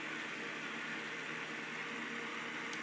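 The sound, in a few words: fan sound from AVANTEK white noise machine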